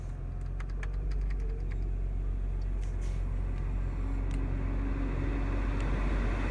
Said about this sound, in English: you can actually like hear the air conditioning come on